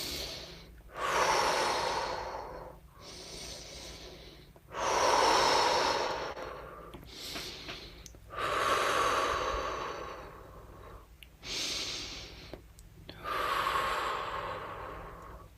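Deep breathing during a guided exercise: four or five slow, loud, close inhale and exhale cycles, each long breath separated by brief quiet pauses, with no talking.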